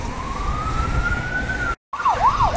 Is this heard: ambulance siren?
yes